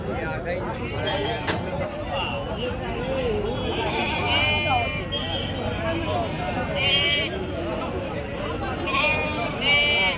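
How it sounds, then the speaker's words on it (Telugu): Sheep bleat again and again at the Pileru sheep market, the close, wavering cries rising over a constant murmur of crowd chatter and people talking. "ఇది పీలేరు గొర్రెల సంత"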